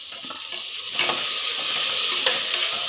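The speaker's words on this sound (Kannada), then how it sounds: "ಟೊಮೊಟೊ ಹಾಕ್ತಾಯಿದ್ದೀನಿ ಟೊಮೊಟೊ ಬಂದು ಚೆನ್ನಾಗಿ ರೋಸ್ಟ್ ಆಗಬೇಕು" Tomatoes fry with onions and curry leaves in a pan. A faint sizzle swells into a strong continuous hiss, and a few scraping stirs are audible.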